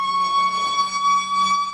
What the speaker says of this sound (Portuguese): sirene tocando